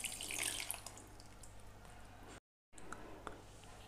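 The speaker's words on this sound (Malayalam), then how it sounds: "ഇനി ഇതിൻ്റെ അകത്തേക്ക് നമ്മൾ കുറച്ച് വെള്ളം ഒഴിച്ച് ജസ്റ്റ് ഒന്ന് കഴുകിയെടുക്കുക" Water poured over homemade paneer to rinse it, a soft splashing trickle that is strongest at the start and fades to a quiet wash, with a short gap partway through.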